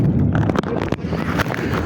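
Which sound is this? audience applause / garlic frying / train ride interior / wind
wind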